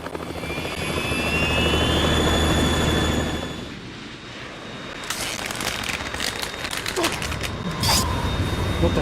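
The Harrier jet in Metal Gear Solid 2 roars with a loud, steady engine drone and high whine that fades midway, followed by clanking, creaking game sounds.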